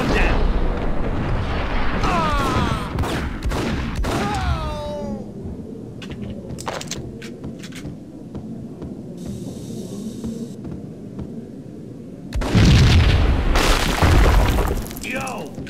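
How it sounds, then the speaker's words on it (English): Explosions in the video game Max Payne: several heavy booms, with a big loud blast near the end, mixed with voices of people talking and shouting. "I thought it was a bomb for sure"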